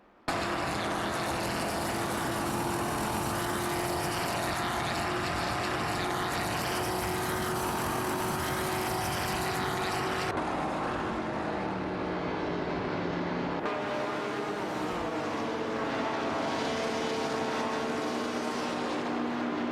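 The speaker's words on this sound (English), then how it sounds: "How about we stick to watching these AI cars tear up the track instead?" AI-driven race cars in a Daytona racing video game roar past in a continuous, dense engine whine with shifting pitch, loud and steady without speech.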